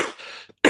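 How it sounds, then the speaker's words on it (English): A man on a radio-style talk broadcast coughs twice, a rough throaty hack, a short gap, then a second sharp burst, close to the microphone. "Shouldn't be on the air with this kind of a cough"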